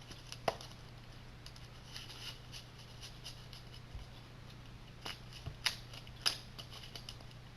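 A deck of Vanguard trading cards is shuffled by hand, producing quiet, close scattered taps and soft riffling snaps with a few sharper clicks, faint against a steady low background hum and heard without talking.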